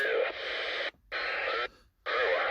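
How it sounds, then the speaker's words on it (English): Three bursts of loud CB radio static as someone breaks over the automatic squelch, each cutting off abruptly into near silence, the rushing hiss of the squelch opening and closing. "there's somebody breaking over a squelch"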